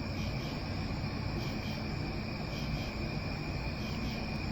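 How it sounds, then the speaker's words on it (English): Crickets chirp steadily in the background as a continuous high trill, faint but constant over a low room hum, with no talking. "you might be really into the background noise of the crickets"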